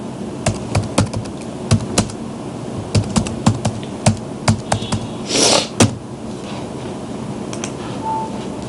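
Irregular bursts of typing on a computer keyboard while entering code, close and crisp keystrokes clattering in quick runs with short pauses between.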